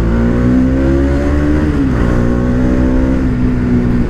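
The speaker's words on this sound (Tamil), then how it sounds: "இந்த இடத்துல நீங்கள் இந்த எக்ஸாஸ்ட் நோட்டை ஃபீல் பண்ணுங்கப்பா." A motorcycle exhaust drones loudly and steadily up close, a deep throaty note that dips briefly in pitch before settling again.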